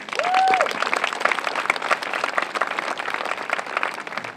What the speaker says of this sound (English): So we always got to make sure we thank Mrs. Depew for a great job, so a round of applause for all of them.